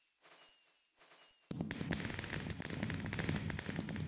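Fireworks from a launcher in Pixelmon Minecraft burst in a dense, rapid crackling barrage after two faint whooshing launches, many going off at once in quick succession.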